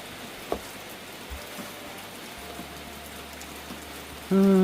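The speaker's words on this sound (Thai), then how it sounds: "ถ้าฝนตกแบบนี้นะ" Steady rain falls outdoors in a rural Thai farm setting near a rice field, making a continuous soft hiss with a few faint knocks and a brief louder tonal sound at the end.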